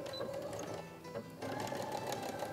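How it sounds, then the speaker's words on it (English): A sewing machine runs stitching the crotch seam of a pair of shorts, a fast close mechanical whirr with a brief slowdown midway before resuming at a steady pace, no talking. "I haven't even pinned it, I'm just gonna start sewing down."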